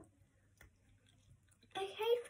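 Close, soft chewing of a chewy banana-flavoured American candy bar, quiet at first and then a louder burst of wet, squishy mouth sounds near the end.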